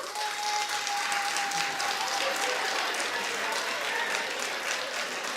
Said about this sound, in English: clap if you have a favorite.